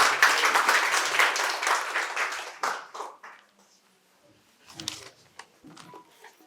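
An audience at a quiz competition at a medical college and hospital in Santiniketan breaks into dense, close applause that thins out after a couple of seconds into a few scattered claps and faint noises.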